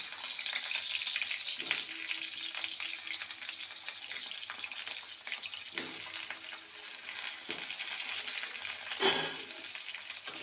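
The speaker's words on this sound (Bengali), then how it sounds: "আলুটাকে প্রথমে ভেজে তুলে নেব" Potatoes fry in mustard oil in a wok with a continuous soft sizzle and occasional stirring scrapes, fairly quiet and close, with no talk.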